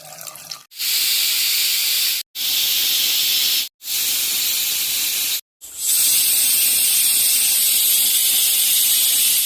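A pressure cooker boiling potato pieces in water vents steam as a loud, steady hiss, broken by three brief silences into four long bursts, the last one sustained to the end.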